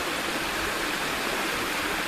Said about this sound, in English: Little waterfall there, cascading off the ledge.